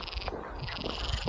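A frog croaks along the Camino de Santiago near the Rio Orbigo in Spain in June, a steady, pulsing croak that sounds fairly close and continues throughout, with no talking.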